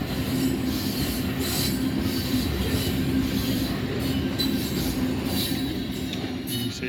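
A freight train led by three CN locomotives rolls past at Siam, picking up speed on a slight downgrade, its wheels rumbling and squealing in a continuous loud drone with rhythmic clatter of passing cars.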